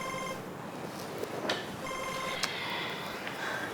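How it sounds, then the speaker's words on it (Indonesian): A telephone rings repeatedly in an office, its electronic ringtone sounding as a steady tone broken by short bursts, fairly close and clear with no talking over it. "Ada telepon."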